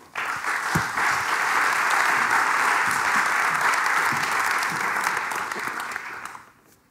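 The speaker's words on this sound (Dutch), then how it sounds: "of u een hartelijk Amsterdams applaus wil geven" Warm applause from an Amsterdam audience at an energy and port event, welcoming a program director: a full, steady wash of clapping that holds for several seconds before tapering off.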